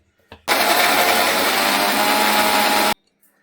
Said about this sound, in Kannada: ಟೊಮೊಟೊ, ಈರುಳ್ಳಿ, ಕೊತ್ತಂಬರಿ, ಪುದೀನ, ಹಸಿಮೆಣಸಿನ್ಕಾಯಿ ಇಷ್ಟನ್ನು ಹಾಕಿ ರುಬ್ಕೋತಾ ಇದ್ದೀನಿ.